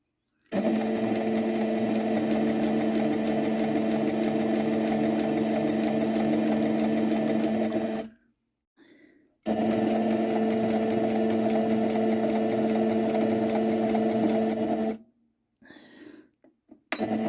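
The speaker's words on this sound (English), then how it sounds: "I'm going to put my presser foot down and start sewing again." A sewing machine stitches tartan fabric bunting in two long, fast, even runs of about eight and six seconds, loud and close, separated by brief quiet pauses with small handling clicks.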